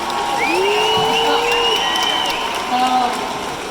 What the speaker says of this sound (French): il y a que des femmes qui applaudissent là